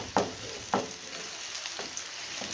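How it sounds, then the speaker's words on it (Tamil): Onions sizzle and crackle steadily in hot oil while cooking a chicken gravy, with a few louder stirring scrapes at intervals. "வெங்காயம் சேர்த்து நல்லா வதக்கி விட்டுடுவோம்"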